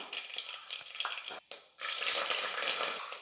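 Black pepper, cumin, mustard seeds and small garlic cloves sizzle in hot oil for tempering a Coimbatore-style rice and lentil dish, with a loud hiss that briefly cuts out and then returns stronger and steady, with no talk.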